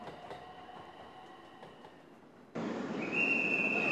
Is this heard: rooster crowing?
no